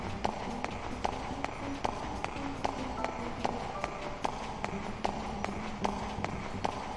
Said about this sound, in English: Some loud-ass footsteps